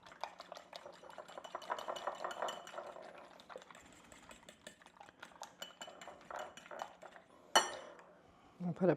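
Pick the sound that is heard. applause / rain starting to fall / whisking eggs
whisking eggs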